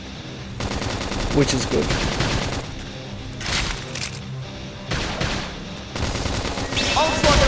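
Bursts of rapid automatic gunfire and blasts from combat in the Xenoblade Chronicles X: Definitive Edition video game, coming in repeated volleys over a steady game backdrop, with a voice briefly talking over them.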